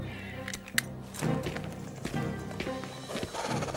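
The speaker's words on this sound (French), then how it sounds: "les chevaux s'emballent" Horses neighing and whinnying with clattering hoof clip-clop as they bolt in a panic after a gunshot, a busy, fairly loud stretch of stamping and cries with a sharp bang near the start.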